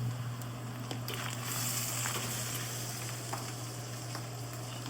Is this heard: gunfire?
no